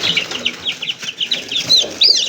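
Gamefarm Reds chickens, a cockerel and pullets, give rapid high-pitched clucks and peeps close by in a quick, busy run of calls.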